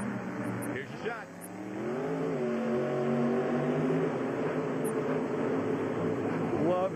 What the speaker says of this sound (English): Love hearing that truck pull onto the track, Ken, whether it's Adam or Dennis driving it